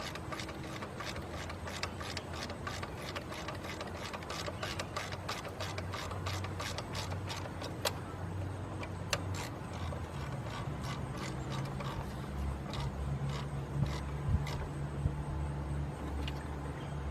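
A ratchet clicks rapidly and steadily as it tightens a bolt on a car part, a long run of close, crisp pawl ticks with a few brief pauses and no talking.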